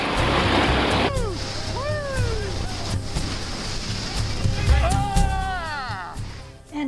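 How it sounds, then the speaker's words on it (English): White water rapids of the Colorado River in the Grand Canyon: a loud rushing wash of water, strongest at first, with high whooping voices and shouts rising over the churning flow. "what does it feel like to be in those white water rapids that the Colorado River is so famous for"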